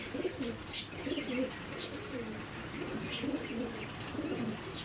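Giribaj pigeons coo in soft, rolling bursts, a pair calling in a recurring low murmur nearby, with a few faint higher chirps above.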